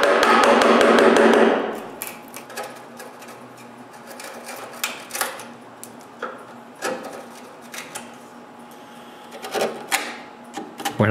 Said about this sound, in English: I clean the pins with chisels.